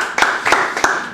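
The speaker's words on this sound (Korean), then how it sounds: "자, 박수 한번 주세요." An audience at a company visit gives a few quick, close claps, three distinct sharp bursts in about a second, fairly loud with no voices over them.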